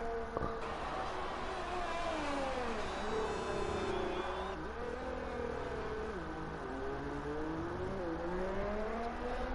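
Racing game car engine in a Grand Prix race at Spa, a continuous loud whine rising and falling through gear changes and corners, with commentary voices over it.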